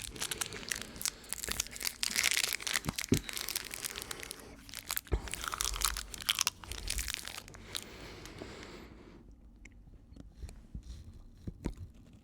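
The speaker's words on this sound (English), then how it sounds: "A crisp Whopper right in the jaw." Crunching of Whoppers malted milk ball candy, close and crisp bites and chewing with irregular crackling bursts, loud near the mouth, fading to quieter chewing near the end.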